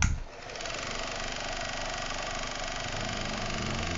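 A homemade generator built from a high-torque dynamo, controlled at 12 volts, whirs into a loud, steady motor drone that holds an even pitch throughout with no speech.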